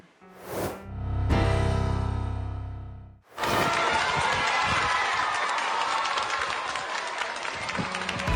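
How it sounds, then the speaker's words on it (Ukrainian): Applause and cheering from a crowd greeting Ukrainian children at a school in Italy, a steady dense wash of clapping after two brief bursts of louder noise at the start. "із оплесками та синьо-жовтими стягами. Так українських дітей зустрічають в одній із італійських шкіл."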